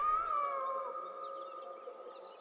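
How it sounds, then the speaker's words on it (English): A cat meows in the video game Kentucky Route Zero, a single long drawn-out cry with a reverberant echo trailing off, clear and alone. "This cat is just echoing, is meowing into the abyss."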